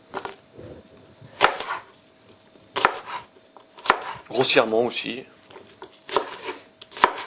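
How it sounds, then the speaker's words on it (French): Onions chopped with a knife on a cutting board, a series of crisp, close knocks in uneven bursts, with someone speaking French between the cuts. "je vais couper les oignons tout de suite"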